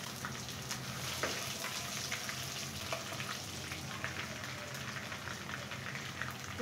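Whole garlic cloves and bay leaves fry in hot oil for a chicken skin pickle. The sound is a steady, dense crackling sizzle that carries on evenly throughout with no voices.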